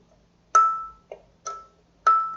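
On a kalimba, the shortest key is plucked for a high note, struck three times with a bright, ringing tone that decays slowly. A softer, duller pluck sits between the first two, all close and clear with no voice.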